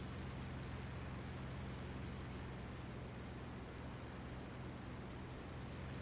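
A P-47 fighter plane's engine in a video game gives a steady, even drone with no breaks, fairly faint and with no speech.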